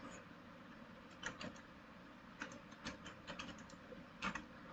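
Code typed on a computer keyboard, with quiet clusters of key clicks in short irregular bursts over faint room noise and no talk.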